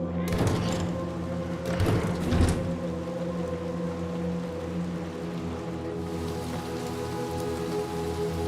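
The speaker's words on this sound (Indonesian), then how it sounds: "Oh, masih hujan ya di luar." Steady rain falls and patters in the video game Little Nightmares 2, a constant wash of drops with a few heavy thumps early on over a low sustained hum.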